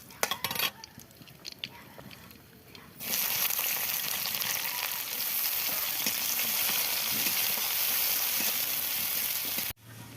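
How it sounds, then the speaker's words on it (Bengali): Sliced onions hit hot oil already seasoned with fenugreek seeds and bay leaf, and a loud, continuous sizzle bursts in after a few soft kitchen clinks and keeps up steadily to near the end. "এই দেখুন পেঁয়াজ ভাজা হয়ে গেছে"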